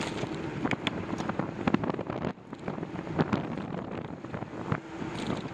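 Wind buffets the microphone in a steady, rough roar during a cold winter bicycle ride to a grocery store, the gusts rising and dropping with a brief lull midway, with no talking.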